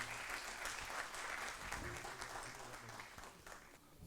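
Audience applause at a Hindi poetry recital, a continuous quiet wash of many hands clapping in a hall that thins slightly toward the end, with a faint voice underneath.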